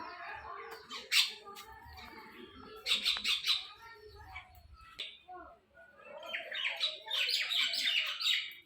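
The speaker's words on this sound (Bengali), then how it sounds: "দেখো কতগুলো পাখি চলে আসছে এখানে" A flock of birds chirps and squawks while pecking at biscuits scattered on a cleared patch of ground. Bursts of calls come and go over several seconds, fairly faint, with a soft voice murmuring at times.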